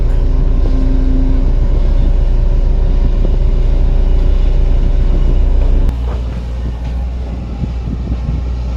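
A Kobelco SK140 excavator spreads and levels soil over a dug pond in Udon Thani, its engine a loud, continuous low rumble close by that drops to a slightly softer idle partway through, with no voices.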